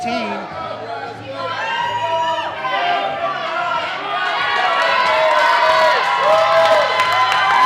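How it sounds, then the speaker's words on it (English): A large crowd cheers, whoops and shouts steadily at the Adaptive CrossFit Games as athletes finish their dumbbell sets, the noise swelling louder toward the end, with an announcer's voice mixed in. "Crowd's getting big for these athletes."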